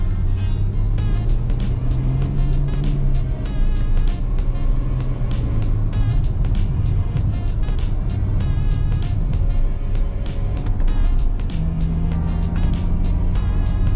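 A 2016 Ferrari F12 drives along winding roads, its engine a loud continuous drone that rises and falls in pitch with the corners, accompanied by a rapid run of regular ticking clicks.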